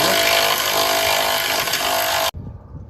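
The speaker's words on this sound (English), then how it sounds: "we're doing some power tools now" A loud, continuous power tool whirs steadily at close range for over two seconds while removing a sway bar on a 3rd gen Toyota Tacoma, then cuts off abruptly, leaving low background clatter.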